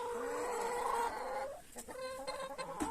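Chickens and a rooster of a Sussex-type meat-and-egg cross cluck close by in a farmyard, a steady run of low calls that thins out midway, with scattered clucks and a few sharper cries after.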